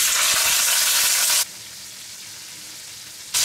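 Pieces of roast meat go into hot fat in a pan and sear with a loud, dense sizzle, which drops suddenly to a faint hiss partway through and then flares up again at the end.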